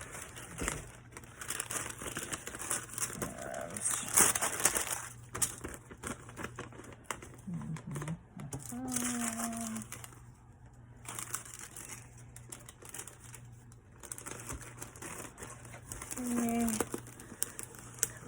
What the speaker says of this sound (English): it's just me kind of pulling on the wax paper.